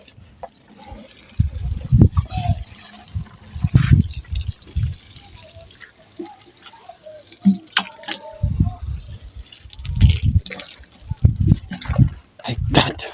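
Water poured onto garden soil to soften it before seedlings are transplanted: intermittent splashing and trickling pours arriving in uneven bursts, close and fairly loud, with quieter pauses between.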